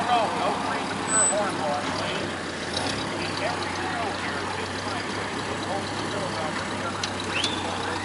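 Vintage 1931-era Ford Model A cars idle and creep in to park at an outdoor gathering, their steady engine rumble continuous throughout, with people talking nearby.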